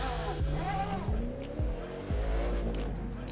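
A McLaren in The Crew 2 revs hard through repeated gear shifts, its engine note rising and dropping several times while tires squeal over a steady drone, loud and close throughout.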